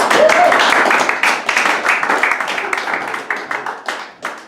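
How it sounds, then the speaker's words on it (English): A comedy-night crowd breaks into a loud round of applause, a thick burst of clapping that thins out and fades toward the end. "Give him a round of applause"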